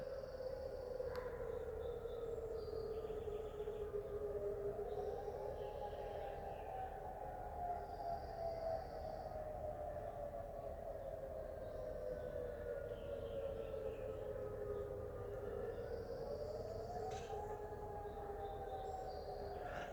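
Far-off Mount Rainier volcano warning siren test heard from Puyallup, Washington, a faint wailing tone that slowly rises and falls in long sweeps over steady outdoor background noise, with no talking.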